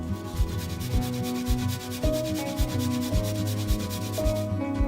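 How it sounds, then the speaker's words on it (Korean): A frozen cube of pear juice is grated on a kitchen grater, making quick repeated scraping rasps close up in a steady back-and-forth rhythm. "그냥 강판에다가 가세요"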